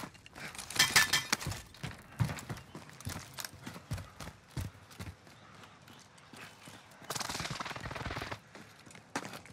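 Sharp gunfire bursts from Call of Duty: Modern Warfare crackle in irregular clusters across the span, some loud and close, others thinner, with a dense rattling stretch near the end and no talking.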